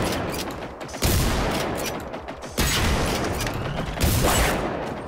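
Gunfire in Generation Zero, three loud bursts of shots about a second and a half apart, each fading into a rumbling tail, close and with no talking.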